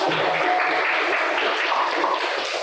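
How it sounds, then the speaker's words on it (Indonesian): Classroom audience claps briefly after a student group presentation, a short burst of dense clapping at moderate level with some voices faintly underneath. "Ya, tepuk tangan."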